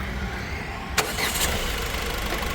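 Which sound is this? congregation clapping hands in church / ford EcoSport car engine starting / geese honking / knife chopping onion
ford EcoSport car engine starting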